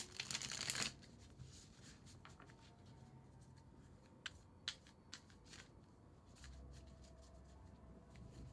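A tarot card deck is shuffled close by: a quick loud riffle burst at the start, followed by soft scattered card snaps and slides, a few sharp clicks, and quiet handling noise with no talking.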